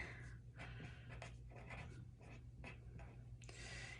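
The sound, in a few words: writing the word racetrack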